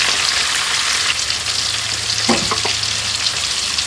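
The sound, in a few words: vegetables being refried in a pan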